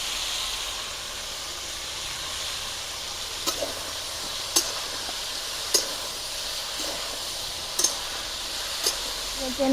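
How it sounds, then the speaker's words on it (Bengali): Chopped ridge gourd stir-frying in a pan, a steady hiss of frying under occasional sharp clicks of a utensil against the pan, with a voice talking at times. "এবারে আমি কেটে রাখা ঝিঙে দিয়ে দেবো। ঝিঙেটাও কষবো"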